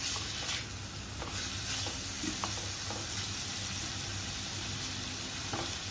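Paneer pieces stir-fry in a pan with a steady, close sizzle and hiss, broken by a few light scrapes and clicks of stirring, with no voices.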